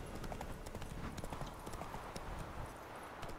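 Roach, a horse in The Witcher 3, galloping at full speed, with steady rapid hoofbeats thudding continuously, fairly close, over a busy outdoor game soundscape.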